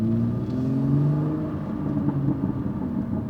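A car's factory exhaust burbles with a low, steady rumbling engine note and soft popping crackles, moderately close with no talking.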